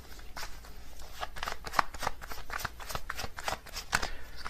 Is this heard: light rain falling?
no